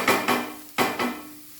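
Banana blossom thoran being stirred and fried over low heat, with a few distinct scraping clinks of a spoon against the pan, fairly close and spaced out, and no voices.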